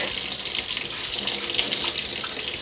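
Kitchen tap water runs steadily into a sink for washing during a kitchen deep clean, a constant close hiss and splash with no talk.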